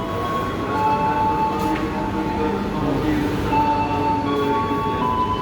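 A commuter train for farmers and traders on the Rangkasbitung–Merak line in western Java rolls along with a steady low rumble and rattle, faint squeals and hum rising through the facing-seat carriage, with a voice faintly in the background.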